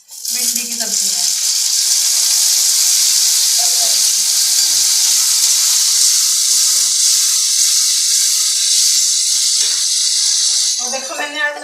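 Chopped tomatoes drop into a pan of frying okra (bhindi) curry, setting off a loud, steady sizzle that holds for about eleven seconds before fading, with a few faint clinks near the start and end.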